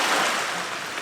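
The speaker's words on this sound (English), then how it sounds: "the waves are crashing in very hard" Ocean waves crash hard on a coast with a sea stack nearby, a loud, close, rushing broadband wash of surf with no voice.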